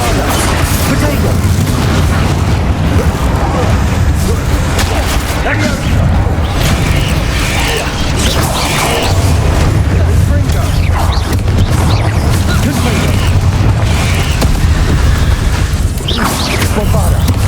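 Bombarda spell explosions in the Hogwarts Legacy game, a loud continuous stretch of booming blasts and rumbling impacts mixed with combat clatter, with voices speaking over the noise.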